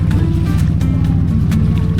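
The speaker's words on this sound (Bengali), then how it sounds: "মাছ ধরা নৌকা" A fishing boat's engine drones loud and steady on the water, a low rumbling hum with gusts of wind noise and faint splashing throughout.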